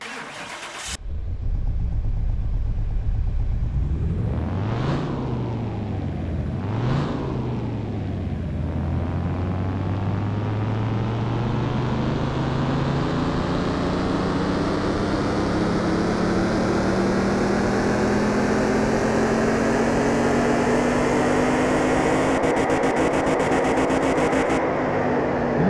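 A car engine on a dyno in Car Mechanic Simulator 2021 cranks and starts, blips twice with rising and falling revs, then climbs in one long steady pull, its loud whine rising in pitch for about fifteen seconds.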